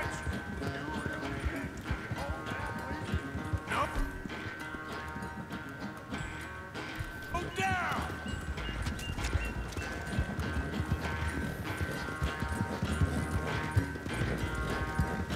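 Horse hooves gallop in a steady rapid clip-clop in Red Dead Redemption, with a whinny and game music and effects running underneath.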